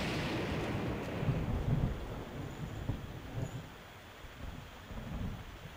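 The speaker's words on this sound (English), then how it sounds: "Heavy rain, heavy lightning." Heavy rain with thunder in The Legend of Zelda: Breath of the Wild, a quiet steady wash of rainfall with soft low rumbles, faint and continuous without voices.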